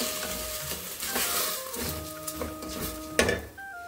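Rice with roasted cashews stirred in a pan, with soft scraping and clinking of the spoon against metal and a light sizzle, close by and fairly quiet, with one sharper knock near the end.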